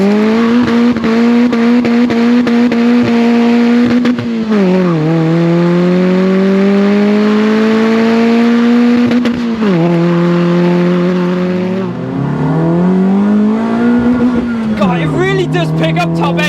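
Cammed Citroen C2 rally tribute engine revving hard toward 7,000 RPM, loud and close with rising and falling pitch as the throttle opens and closes, sustained over several gear pulls.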